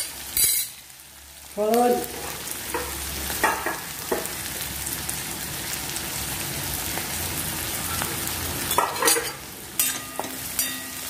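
Green chilies and turmeric fry in hot oil with a dense, continuous sizzle and spatter, with spoon scrapes now and then. Someone speaks briefly at the start over the frying.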